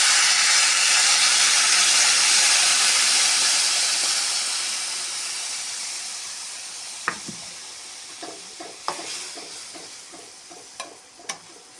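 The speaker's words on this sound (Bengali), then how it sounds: "কষানো হয়ে গেছে, এখন জল দেব।" Water poured onto hot fried mixed vegetables sends up a loud, rushing steam sizzle that slowly dies down, followed by scattered clinks and scrapes of stirring, with no talking.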